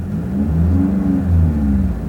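A small 4-cylinder car engine drones steadily and loudly up close, a smooth low hum with a slight rise and fall in pitch through the short stretch.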